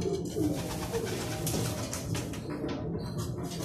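Racing pigeons cooing softly at close range, low throaty murmurs repeating in an irregular rhythm with a few rustles and brief higher chirps, quiet overall with no talking.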